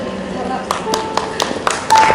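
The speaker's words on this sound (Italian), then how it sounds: "Un applauso, grazie." Applause at an outdoor poetry reading in Mestre: scattered claps and taps start sparse, then grow more frequent from a small audience, with speech and a steady tone running underneath.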